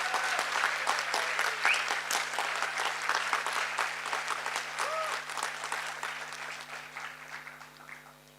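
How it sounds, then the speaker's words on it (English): Sustained audience applause at a Bharatanatyam Arangetram dance debut, a dense steady wash of many hands clapping from a hall full of people, loud throughout and slowly tapering off toward the end, with no talk over it. "give them a big round of applause"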